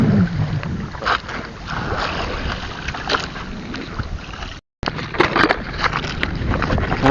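A small Filipino outrigger boat (bangka) motoring across open water, with steady engine rumble, wind buffeting the microphone, and splashing, loud and close throughout.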